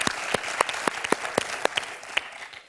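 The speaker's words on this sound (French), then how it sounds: "Ah oui, moi aussi j'applaudis." Steady rhythmic clapping on a French television quiz show, a few hands beating in even time, close and clear for a couple of seconds before tapering off.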